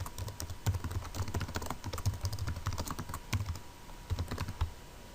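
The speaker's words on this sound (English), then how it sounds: "Once you've typed in the comment" Computer keyboard typing, a close run of quick irregular key clicks in short bursts with brief pauses between them, alone without speech.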